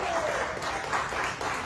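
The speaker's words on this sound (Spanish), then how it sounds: "Dese un aplauso a usted." Applause from a church congregation during a sermon, a brief, steady burst of clapping at close range that continues for under two seconds.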